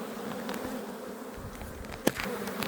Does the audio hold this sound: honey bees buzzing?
yes